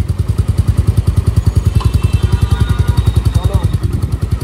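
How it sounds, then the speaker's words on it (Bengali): A new Royal Enfield Meteor 350 motorcycle idles nearby with a loud, evenly spaced thumping exhaust beat that holds steady for the whole stretch. "চলো নতুন বাইক স্টার্ট।"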